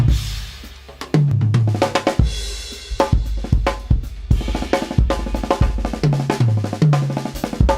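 A drum kit plays a fast, dynamic fill: rapid snare and tom strokes descending in pitch, punctuated by kick and crash hits, loud and close, alone without talk.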